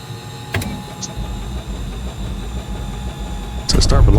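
A Beechcraft Baron twin-engine plane's engine cranks and runs with a steady low rumble, surging louder near the end, while people talk over it.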